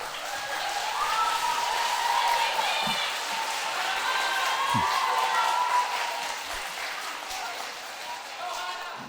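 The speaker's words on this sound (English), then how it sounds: "So give them a round of applause for making me look good." Audience applause at a middle school concert rises for the school band, a steady wash of clapping that fills the room for several seconds while voices carry over it.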